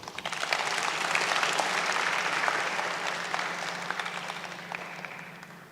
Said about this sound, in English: Another round of applause for Samia